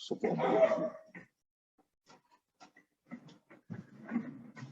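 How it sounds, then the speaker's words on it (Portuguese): A dog barks once loudly nearby, followed by a few faint, brief yips and whimpers scattered through quiet pauses, with a voice beginning to talk toward the end. "Comecei a falar o cachorro latindo."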